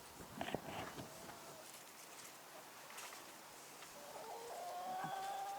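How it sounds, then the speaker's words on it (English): Faint chickens clucking and calling in a coop, scattered short clucks and a drawn-out call near the end over quiet background. "the chickens are very talkative today"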